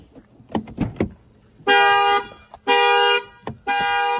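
A parked car's alarm, set off by a detected break-in, sounds after a few soft clicks and thumps: three loud, sustained horn blasts with short gaps between them, close by.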